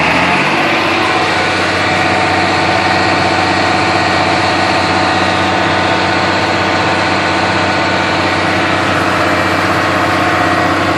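A 1998 8400T tractor engine runs at full throttle, 1900 RPM, a steady, loud, continuous drone with no change in pitch and no one talking.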